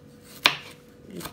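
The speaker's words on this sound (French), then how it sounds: "je coupe un petit aussi" A single sharp knife chop through garlic on a board, then a quieter second tap near the end, close and dry.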